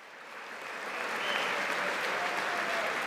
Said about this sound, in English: Mostly because of the great amount of applause.